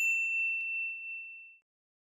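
A single bright notification bell dings once, then rings out cleanly and fades to silence in about a second and a half.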